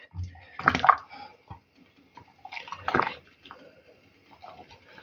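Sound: pouring hot water over cleaned peppers

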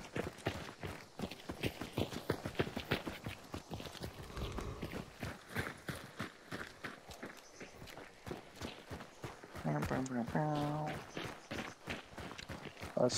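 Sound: horse hooves clip-clopping in video game

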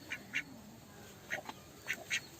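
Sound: ducks quacking

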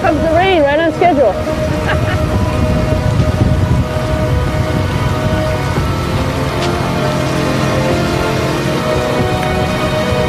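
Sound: rain falling

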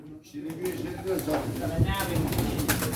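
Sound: pigeons cooing at a pigeon auction

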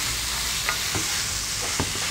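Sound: stir frying prawn and pork filling in pan

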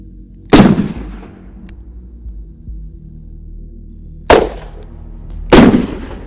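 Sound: short-barreled 357 Magnum gunshot fired into soft body armor

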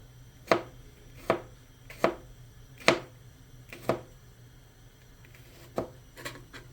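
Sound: knife chopping ingredients for tuna pasta

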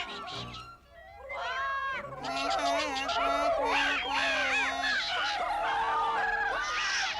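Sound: voices imitating bird calls

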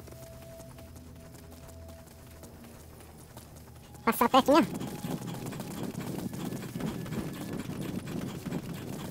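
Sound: horse hooves in video game Metal Gear Solid 5

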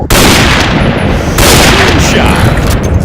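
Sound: gunfire from a sniper rifle in a video game

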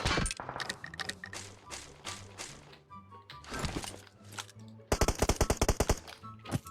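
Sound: enemy gunfire from a house in PUBG Mobile video game

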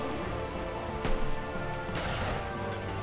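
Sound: rain in video game Taikou Risshiden V

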